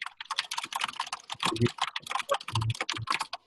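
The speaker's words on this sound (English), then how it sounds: "There's somebody's typing and it's quite loud." Rapid, loud clatter of keys being typed on a computer keyboard close to the microphone during an online meeting, continuous and uneven, with faint voices underneath.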